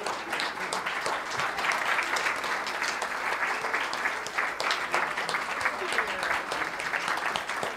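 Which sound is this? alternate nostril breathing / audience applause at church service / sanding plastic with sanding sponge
audience applause at church service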